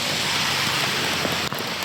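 Steady rain pours outdoors around a rain-or-shine carwash vending machine, a dense continuous wash of drops hitting surfaces, loud and even throughout with a faint knock near the end.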